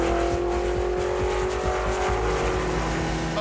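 Holden 308 V8 engine in Peter Brock's A9X Torana race car, a loud continuous rumbling drone held at steady revs close by, with no talking over it.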